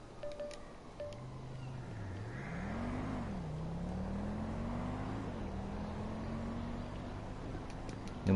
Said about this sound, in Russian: откуда звуки машины? Они сверху, с моста.